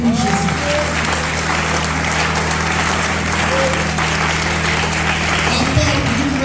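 A congregation at a worship service applauding and cheering for Jesus, a loud continuous wash of clapping and crowd noise over a steady low hum, with some voices mixed in.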